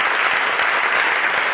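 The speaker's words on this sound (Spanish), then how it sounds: "se puede percibir, mi querido Paco, que la única que no aplaude es Lenia Batres Guadarrama." Steady applause from a crowd at a court ceremony, dense continuous clapping held at an even level throughout with no voices standing out.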